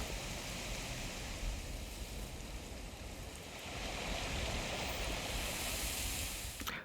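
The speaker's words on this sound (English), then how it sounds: "this is actually a shoreline sound effect, but there's constantly the sound of water because we're moving through the water with the boat" Steady wash of water along a shoreline as a boat moves through it, with waterfalls rushing somewhere farther off, a continuous broadband hiss and rumble at a fairly low level with no voices.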